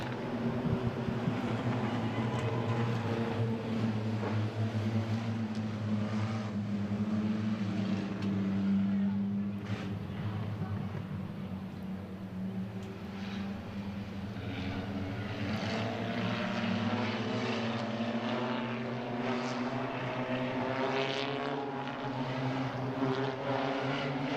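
A field of race cars idles and rumbles at Midvale Speedway before a heat race, a steady, loud, continuous drone of engines with a faint voice underneath.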